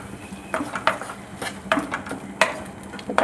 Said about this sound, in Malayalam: തക്കാളിയുടെ പച്ചമണം മാറുന്നിടം വരെ ഒന്ന് നല്ലപോലെ മിക്സ് ചെയ്യണം